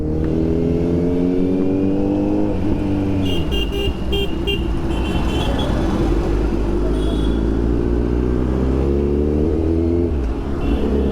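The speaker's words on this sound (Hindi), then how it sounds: "भाई शेकी की बाइक ना काफी टाइम बाद चला रहा हूँ मैं" A Kawasaki Z900 motorcycle being ridden: a loud, close engine drone whose pitch climbs, dips and climbs again as it revs, with steady road and wind rush beneath.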